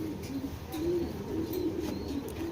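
A silver-eyed racing pigeon cock, a foreign bird of red checker stock, coos in low repeated notes, steady and fairly near, with no talking over it.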